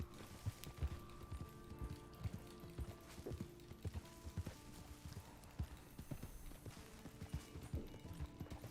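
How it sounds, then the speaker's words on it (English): Horse hooves clip-clop steadily while riding in Red Dead Online, a close, rhythmic run of hoofbeats with faint mechanical clicks and no talk. "Riding a horse is so much easier on a keyboard."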